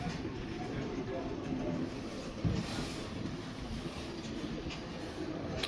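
Steady low rumble and rattle of a moving Amtrak passenger train heard from inside the car, continuous throughout with a brief louder bump midway and faint background voices.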